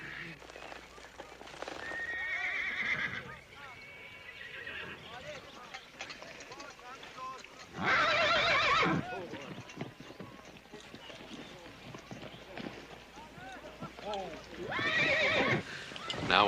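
A horse in a Western riding scene whinnies loudly in several bursts over steady clip-clopping hooves, with people shouting and talking throughout.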